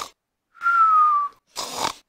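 A voice imitates a snore: a drawn-out whistling tone on the inhale, then a short, rough snorting exhale, heard alone.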